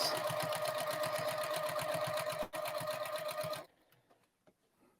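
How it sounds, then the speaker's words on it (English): A sewing machine stitching quilt binding runs in a fast, even mechanical patter for a few seconds, briefly catches, then stops, leaving near silence. "So let me sew a little and I'll show you that."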